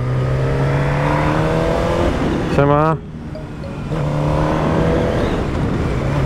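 Motorcycle engine revving while riding at a season-opening meet in Częstochowa, a steady droning tone that briefly climbs in a quick rev, cuts out for a moment, then returns, with a short greeting spoken over it.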